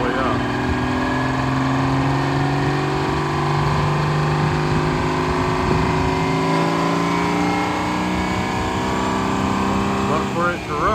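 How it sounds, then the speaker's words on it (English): Straight-pipe generator on a potato farm running flat out at full RPM, a loud, steady, unbroken engine drone throughout with a brief voice near the end. "But for it to run, it runs at like full RPM. It's our straight pipe generator"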